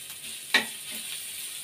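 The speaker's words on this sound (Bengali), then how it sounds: "পেঁয়াজটা একটুখানি হালকা ভেজে নেব" Onion frying lightly in a pan, a soft continuous sizzle with one brief sharper crackle as it is stirred, close and fairly quiet.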